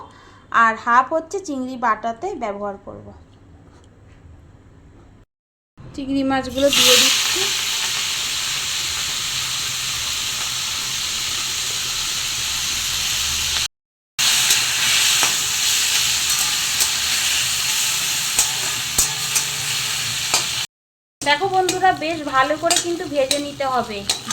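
Shrimp with okra and turmeric frying in a pan, a steady loud sizzle with stirring scrapes that runs for long stretches, someone speaking before and after.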